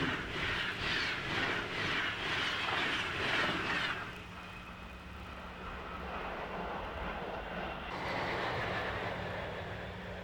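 A train rushes past with a rhythmic rolling pulse, then fades into a steady rumbling drone as it moves away; no talking.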